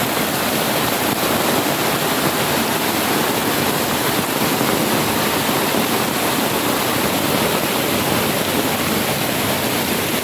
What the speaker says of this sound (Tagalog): Ang lakas ng agos.